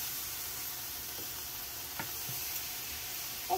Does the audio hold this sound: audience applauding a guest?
no